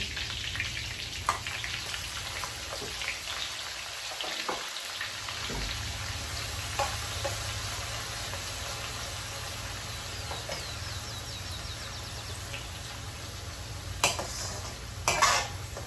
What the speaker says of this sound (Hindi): ऑनियन को थोड़ा हल्का ब्राउन होने देंगे, इसको कुक होने देंगे